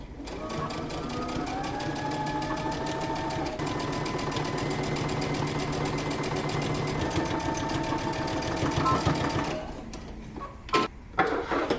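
Sewing machine running a long continuous stitch close to the edge of a dress collar, a steady rapid chatter held for about ten seconds, then stopping with a few clicks and handling sounds.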